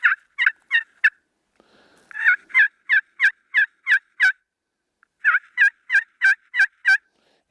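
A slate turkey call is worked in quick bursts of sharp, high yelps, three runs of four to seven notes separated by short pauses, close and alone.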